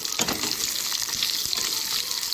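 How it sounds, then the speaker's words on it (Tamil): Small onions sautéing in a pan for a goat tripe curry, giving a dense, continuous sizzle and hiss with a few soft stirring scrapes, close and loud, with no voices. "சின்ன வெங்காயத்தை சேர்த்து நம்ம நல்லா கலந்து விட்டு வதக்கி விட்டுக்கலாம்"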